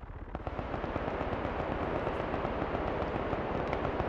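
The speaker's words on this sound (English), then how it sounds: "Sniper shooting at me, I have to move." Dense, sustained gunfire in the video game Arma 3 during a King of the Hill infantry match, a loud continuous rattle of rapid shots with no pauses, filling the scene with no talk.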